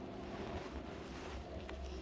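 Strong wind from a nearby tornado with heavy rain roars and buffets the microphone in a continuous, noisy rush.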